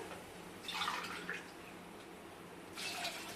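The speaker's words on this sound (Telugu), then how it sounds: "రెండు గ్లాసులు అయితే పోస్తున్నాను సరిపోతుంది" Two glasses of water poured onto old rice make two short, soft splashing gushes with a gap between them, faint and close against a quiet background hiss.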